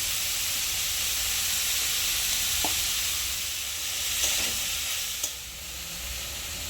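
Onion, capsicum, cabbage and carrot frying in a pan for veg momo filling, a steady, even sizzle with a few soft stirring knocks and a brief dip in loudness.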